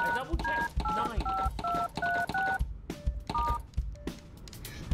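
Keypad button tones from a phone in the video game Dr. Langeskov, a quick run of about nine distinct beeps at varied pitches, then a few sparser tones over a steady background hum.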